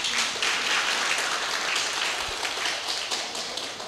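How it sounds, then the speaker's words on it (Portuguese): An audience at a public lecture applauds for Rafael, a moderate wash of many hands clapping at once, even and fairly close, lasting a few seconds with no voices over it. "Palmas para Rafael."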